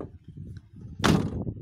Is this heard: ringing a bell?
no